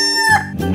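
A cartoon rooster gives a short, loud, close crow with clucking chicken tones, a single brief call in a children's animal-sounds animation.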